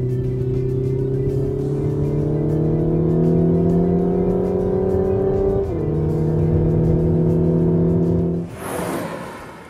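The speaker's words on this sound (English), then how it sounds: "the F-Sport does have one party trick: an engine noise enhancer" A Lexus NX300h F-Sport's engine noise enhancer plays a car engine drone that rises in pitch as it revs, briefly dips at a shift, then climbs again before cutting off into a rush of noise.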